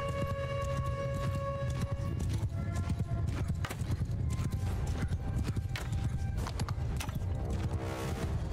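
Horse hooves galloping in the video game Mount & Blade II: Bannerlord, a dense, continuous clatter of many hoofbeats with occasional neighs, loud and close over a steady backdrop of game music tones.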